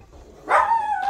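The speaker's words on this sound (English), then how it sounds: "dog's barking." A dog barks once loudly and close by, then a second shorter bark follows, indoors during an unboxing of a Vax Mach Air vacuum cleaner.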